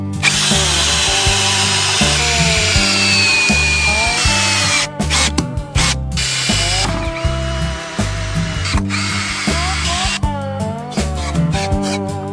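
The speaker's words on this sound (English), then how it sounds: "uses a cordless screwdriver to securely fasten the joints between them" A cordless screwdriver whirs in repeated short bursts, driving screws into wooden pallet joints; loud, close, and stopping and starting as each fastener seats, with pitch dropping under load.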